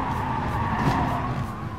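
A race car in a manufacturer cup racing game, running on worn tires, brakes into a slow corner: a steady engine drone with continuous tire scrub and squeal throughout, fairly loud and close.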